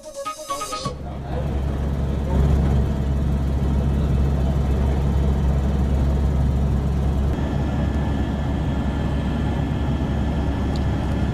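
A helicopter flying over flood-hit areas of Nepal while dropping relief supplies: a loud, steady low rumble that starts abruptly after a brief opening and holds without a break to the end.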